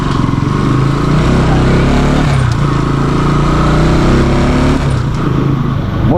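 A motorcycle engine running very close by in a street parking spot, loud and steady with a shifting pitch as the throttle changes, no clear talk over it.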